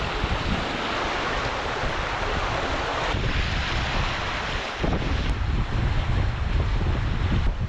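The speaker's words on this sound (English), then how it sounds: "20 knots of wind." Strong wind roars across the microphone while waves wash past a sailboat in about 20 knots on flat water, a constant loud rush with a few brief gusty breaks and no talking.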